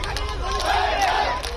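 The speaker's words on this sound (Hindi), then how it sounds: "जिस पर भीड़ उग्र हो गई।" Agitated crowd gathered outside a hospital in Udaipur, a dense roar of many raised voices and shouting, loud and continuous throughout.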